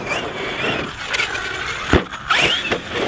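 A HoBao Hyper MT Plus 2 RC monster truck with a TP motor on 6S power, its electric motor whining and rising in pitch as it accelerates, with tire scrabble and scuffs, fairly loud and close.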